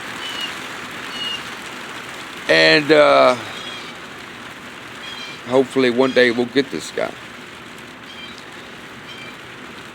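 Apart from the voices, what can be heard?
rain falling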